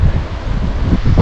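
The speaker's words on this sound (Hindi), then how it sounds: "इस समय बड़ी तेज़ हवा है" Strong wind roars and buffets the microphone with a constant, heavy low rumble at a high mountain campsite by a river in Ladakh.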